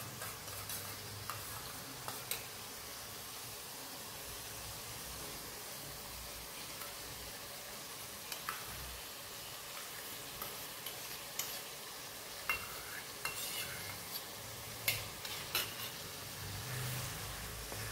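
Yogurt stirred and fried in a pan on a low flame, a soft continuous sizzle with occasional small ticks and spoon scrapes scattered through, close but faint, no talking.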